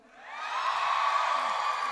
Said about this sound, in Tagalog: Sige nga, lahat ng mga nakaka-relate sumigaw.